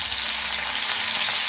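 Green chillies fry in hot oil for a sabudana khichdi, giving a close, loud and steady sizzle that crackles evenly throughout with no voices.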